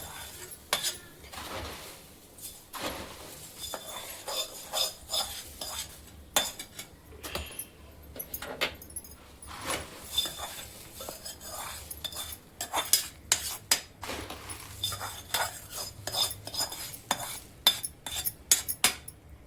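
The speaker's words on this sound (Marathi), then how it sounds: "असं थोडं थोडं थोडं मिश्रण हलवून घ्यायचं आपण." A spoon stirs a puffed rice chivda mixture in a metal pan, giving repeated clinks and scraping rustles in an irregular rhythm, close and moderately loud, with no voices.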